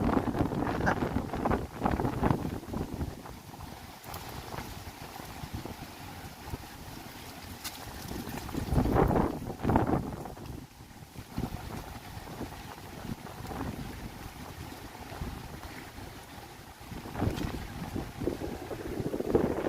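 Strong gusts roar across the microphone during a stormy walk along the Toronto Harbourfront, buffeting in heavy waves that swell and ease, loud and close throughout, with no voices.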